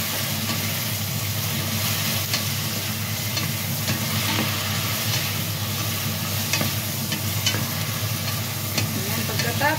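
Tomatoes sizzle steadily in a hot pan while sautéing for Filipino pakbet vegetable stew, a continuous loud frying hiss with occasional clicks of stirring, no voices.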